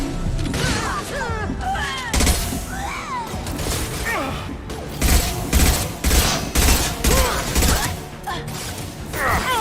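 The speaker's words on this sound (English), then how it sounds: "I love this rifle." Rifle fire in Mass Effect Legendary Edition 2 comes as dense bursts of loud shots, crashes and impacts. Energetic combat sounds and voices are layered on top throughout.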